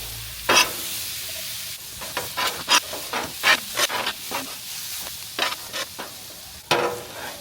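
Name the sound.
veggies stirred and sizzling in bacon grease on a griddle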